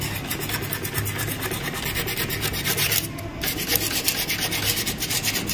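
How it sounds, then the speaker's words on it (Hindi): A small metal shuttle part from a sewing machine is rubbed with sandpaper, giving a steady, close rasping scrape of repeated strokes that runs the whole time with no voices. "इस पे जो है अच्छे से ऐसे रेगमाल मार लेंगे ताकि इसकी जो धार है ना सारी खत्म हो जाए"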